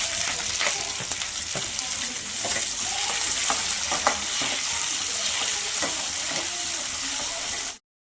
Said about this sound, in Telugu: కాగిన నూనెలో ఎర్రగడ్డలు, కరివేపాకు వేసుకోవాలి.